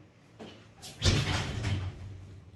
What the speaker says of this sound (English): no matter how hard I try to slam the door, it just won't slam shut